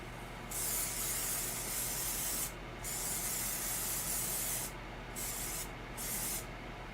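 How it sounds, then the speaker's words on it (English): An aerosol can sprays in several hissing bursts, separated by short pauses, close and fairly soft, with no talking. "All right, I'm gonna spray everything."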